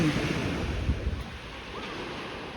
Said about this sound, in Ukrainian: Ну і море.